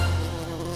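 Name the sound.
wasp buzzing in cartoon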